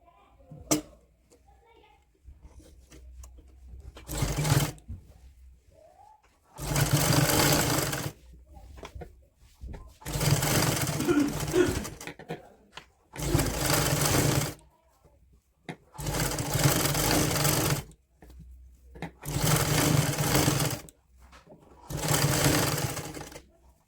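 A domestic sewing machine runs a seam along the neck border of a child's woolen night suit, sounding in six or seven loud whirring bursts of a few seconds each, separated by short pauses with faint handling noise.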